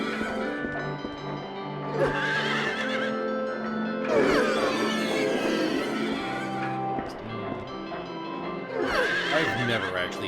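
Horses on a carousel neigh and whinny repeatedly in bursts over a busy game background in Silent Hill 3, with faint clip-clop hoofbeats mixed in.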